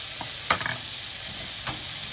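Glaze poured into a vegetable noodle stir fry in a hot pan, giving a steady background sizzle with a couple of sharp splashing bursts near the start and a softer one later.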